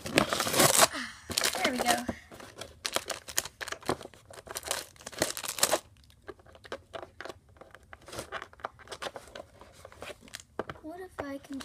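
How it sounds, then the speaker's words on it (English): Tape being peeled and torn off plastic toy packaging while unboxing a Christmas gift, with crinkly rustling bursts in the opening seconds and scattered softer crackles later, under a person talking. "So, take the tape off."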